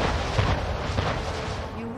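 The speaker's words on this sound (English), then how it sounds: "Ship under attack." Cannon fire pounds a ship under attack in the strategy game Anno 1800, dense low booms rolling continuously over a loud wash of battle noise.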